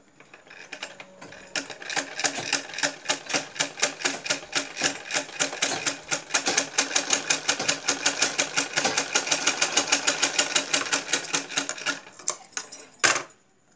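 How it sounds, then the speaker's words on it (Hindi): A domestic sewing machine stitches fabric in a fast, even mechanical clatter that runs for about ten seconds, close and fairly loud, before stopping with a final clunk. "पहले हम सिलाई करके दिखाएंगे।"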